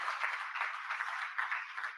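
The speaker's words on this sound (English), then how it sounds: "Let's have a big round of applause." An awards-ceremony audience breaks into applause, a steady, fairly faint wash of many hands clapping for about two seconds.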